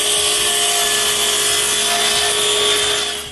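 A table saw recuts wooden pieces at an 11.5-degree angle, running as a loud, steady whine with a sustained high-pitched hum throughout.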